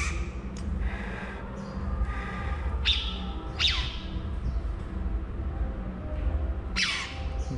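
A caged bulbul gives a series of sharp, loud chirps and whistled calls, some of them spaced apart and some close together, heard close up without talking.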